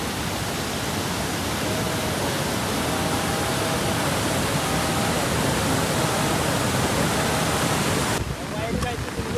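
Heavy monsoon floodwater rushes in a dense, loud, unbroken roar at the foot of the Sahyadri hills near Bhandardara, dropping away abruptly in the last second.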